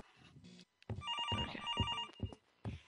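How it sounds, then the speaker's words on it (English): An old-style telephone bell rings in the horror game Infliction, with repeated loud metallic bursts that come in a steady rhythm and sound close. "My gosh, the phone is still going off."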